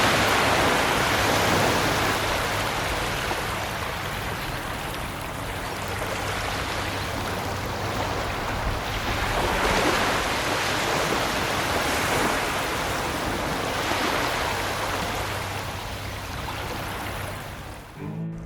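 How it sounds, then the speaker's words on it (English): Ocean waves lap and wash against a beach on Australia's east coast, a continuous broadband hiss with gentle swells rising and falling in slow surges, with no voices. "I also recorded some relaxing lapping wave sounds here"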